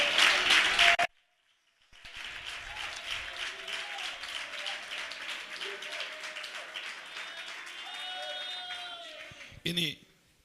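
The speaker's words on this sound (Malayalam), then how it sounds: "നല്ലപോലെ കൈയടിച്ച്" Audience clapping in a church gathering during a pastor's sermon, a brief burst, then a pause and a sustained round of applause with scattered voices and whoops mixed in.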